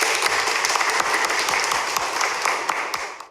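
A hall audience at a school event gives a loud, sustained round of applause for the minister's team, dense clapping that holds steady then tapers off at the end.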